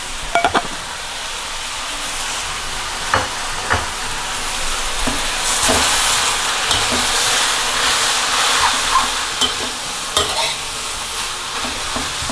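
Glass noodles, tofu skin and vegetables are stir-fried in a pan for a meatless Thai dish, giving a loud continuous sizzle with repeated scraping and clattering stirring strokes close by, without any talking.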